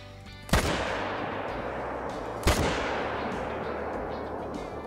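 Two loud rifle shots fired at game animals in the hunting game Call of the Wild, each a sharp crack followed by a long rolling echo, about two seconds apart over a quiet outdoor background.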